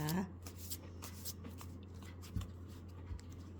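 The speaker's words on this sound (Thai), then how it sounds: "ขอเป็นตัวแทนสับไพ่ตัดไพ่ให้คนเกิดวันศุกร์ค่ะ" Tarot cards being shuffled and cut, giving soft riffling rustles and a few light slaps, close and fairly quiet over a steady low hum, with a voice briefly at the start.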